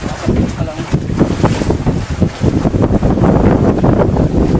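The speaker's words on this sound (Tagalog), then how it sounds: "Mahangin." Strong wind buffets the microphone continuously over the roar of a tuna fishing boat on open water, loud and unbroken throughout.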